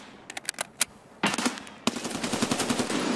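Rapid automatic gunfire in Escape from Tarkov, shots fired through a door: a few scattered reports, then dense sustained bursts of close, loud rattling fire with no talk.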